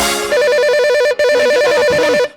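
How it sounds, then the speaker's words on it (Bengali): A telephone rings loudly and close with an electronic warbling ringtone, two bursts separated by a brief gap. "ফোন রে"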